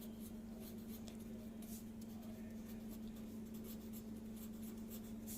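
Pen or pencil scratching numbers onto paper, soft and close, in short strokes over a steady low hum, with no talking.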